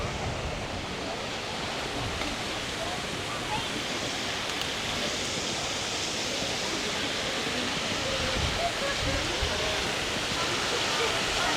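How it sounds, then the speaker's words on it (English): Waterfalls spill into a lagoon-style pool at a Florida resort, giving a loud, steady broadband rush of falling water that fills the whole stretch without pause. "I'm just trying to let you guys take in all the sounds, the water, the vibe."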